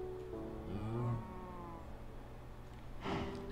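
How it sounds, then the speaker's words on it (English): A blocky Minecraft-style game cow gives a low, drawn-out moo, with a second brief moo near the end, clear and close with no voices. "Can I just kill a cow and eat it?"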